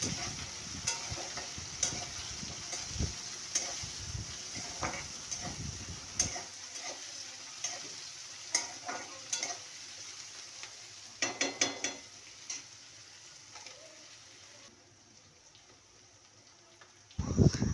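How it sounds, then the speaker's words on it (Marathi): Tomatoes go into a pan of frying onions with a soft sizzle and repeated close scrapes and taps of a spatula stirring. The frying hiss eases and fades as the stirring continues in bursts. "त्याच्यात मी टोमॅटो टाकते."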